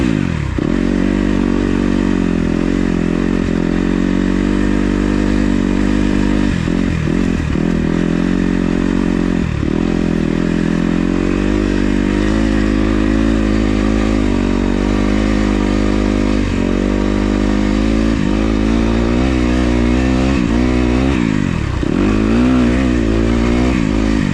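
A brand-new 2026 Kawasaki KX 250 dirt bike is ridden, its engine loud and close, droning continuously with repeated throttle dips and revs and some clatter, no talking.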